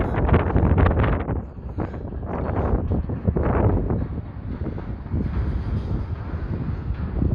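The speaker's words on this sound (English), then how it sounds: "it's a bit breezy, isn't it?" Strong wind buffeting the microphone on Blackpool promenade on a grey day, a loud continuous rumbling roar that gusts and surges without a break.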